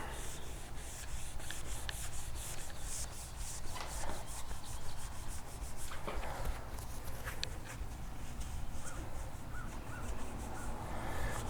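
Protectant is rubbed by hand into the trim of a BMW F80 M3, giving a steady, close scratchy rubbing throughout with scattered light taps and squeaks.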